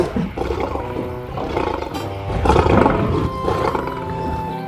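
A lion roaring in the wild, a deep rumbling roar swelling in repeated bursts, loud and close, with no other sounds around it.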